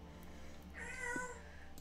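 A bird imitating a cat's meow in a cave, one faint, drawn-out mewing call heard alone in the distance over a quiet hum.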